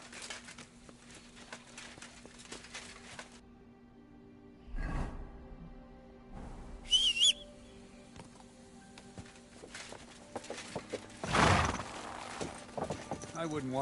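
Horse hooves clip-clop intermittently in Kingdom Come Deliverance 2, mixed with soft whooshes and faint bird-like chirps, while game characters talk over the scene.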